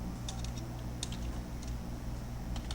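Computer keyboard typing, a handful of light, separate key clicks including a space bar press, close but soft over a steady low room hum.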